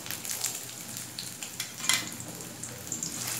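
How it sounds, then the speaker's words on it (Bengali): Onions dropped into hot oil frying in a pan, a soft continuous sizzle with small crackles and pops, quiet and close. "তেলটা গরম হয়ে গেছে, আমি এখন কিছুটা পেঁয়াজ দিয়ে দিলাম"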